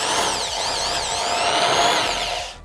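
A budget power drill runs continuously at high speed, its whine wavering slightly in pitch as the load changes, loud and close until it winds down at the end.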